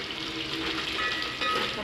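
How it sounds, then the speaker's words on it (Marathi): Bombay duck (bombil) fish fry in oil in a pan until reddish, making a steady, close, dense crackling sizzle that holds evenly throughout with no talk over it. "तर हे बोंबील आहेत ना लालसर होईपर्यंत तळून घ्यायचे आहेत बघा, कच्चे ठेवायचे नाही."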